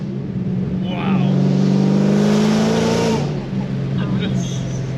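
A Dodge Challenger Hellcat roars under hard acceleration in third gear, a loud, steadily climbing engine note heard from inside the car, with people talking over it before and after the pull.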